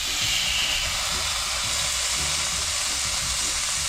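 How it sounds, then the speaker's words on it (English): Steak frying in a pan, cooked for dinner inside an RV: an even, continuous sizzle at moderate level, holding steady throughout with a low rumble underneath. "Cooking myself some steak for dinner."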